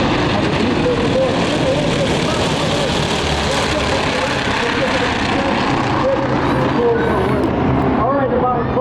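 T-6 and T-34 trainer aircraft flying over the Oshkosh airshow, a loud, steady propeller and engine drone throughout, with an announcer talking over it.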